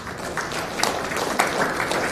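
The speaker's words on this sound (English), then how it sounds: "Let's give a round of applause." An audience at the 2025 Lone Star Conference baseball championship banquet claps in a sustained round of applause, with individual hand claps popping out of the fairly close, even roar.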